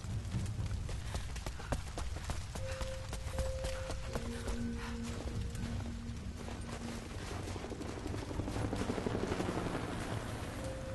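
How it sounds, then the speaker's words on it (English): A continuous whirring rotor drone of a helicopter in the video game Rise of the Tomb Raider, fairly distant and muffled, with scattered clicks and brief tones over the top. "That's a helicopter."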